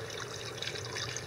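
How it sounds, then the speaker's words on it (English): Water pours steadily into a cooking pot on a backpacking trip, a brief continuous splashing trickle at moderate volume with no talking. "Let's put the water in first so it doesn't."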